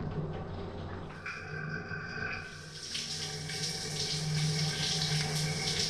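Water running from a tap while a face is washed with facial cleanser, a steady near splashing flow that shifts and brightens partway through, with no talk.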